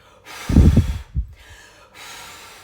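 Breath blown out hard, as if at five candles, two strong puffs close to the mic followed by a weaker exhale, with quiet gaps between.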